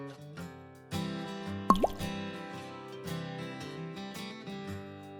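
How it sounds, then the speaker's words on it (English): A single water-drop sound effect from CapCut's library plinks once, clear and brief, over soft background music. "just find Water Drop"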